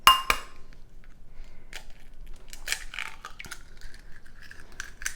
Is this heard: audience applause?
no